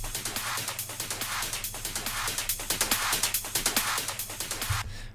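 Dense music over-compressed so its transients are killed, with rapid rhythmic pulses sounding squashed and flat, the beats dull and pumping, playing steadily before cutting off near the end.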